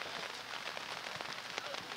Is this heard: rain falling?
yes